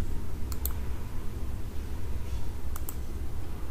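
A computer keyboard being typed on, a couple of quick bursts of crisp key clicks separated by a pause, over a low steady room hum.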